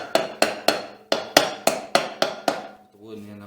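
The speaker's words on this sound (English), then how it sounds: "with the wooden end of a hammer" Ten quick, sharp taps ring out as the wooden end of a hammer drives a Kohler stator into place, steady and close, followed by a brief low hum as the blows stop.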